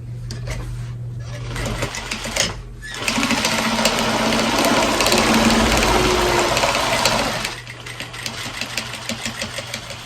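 A sewing machine runs steadily on a potholder, stitching a short burst, pausing briefly, then driving a longer continuous run of rapid mechanical chatter before slowing to light ticking; a low hum sits underneath throughout.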